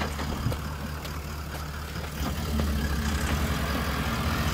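A Toyota LandCruiser VDJ76 with portal axles and a V8 turbo diesel engine drives off-road, its low engine rumble steady and close, rising slightly in strength partway through with faint clunks over the drone.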